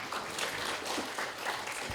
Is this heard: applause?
yes